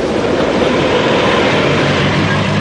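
A train loaded with dismantled factories rolls east toward Siberia and Central Asia, a loud, steady, close rumble of wheels and carriages with no break.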